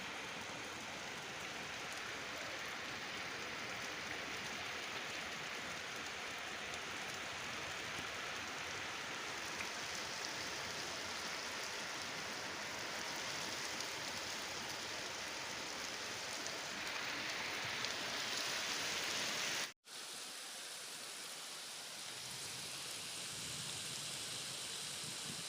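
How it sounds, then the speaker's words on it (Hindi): Steady rain hisses continuously over a village, an even wash of falling drops with a brief cut partway through. "अच्छा यार बारिश"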